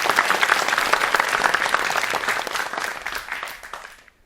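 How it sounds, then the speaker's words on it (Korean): A lecture audience gives a round of applause, brisk and dense at first, then thinning and fading out over a few seconds. "박수 한번 치줍시다"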